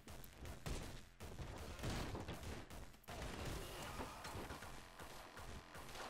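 Gunfire in the video game Anger Foot: rapid, dense bursts of shots and impacts crackle almost without pause, loud and cluttered, with a few short gaps between volleys.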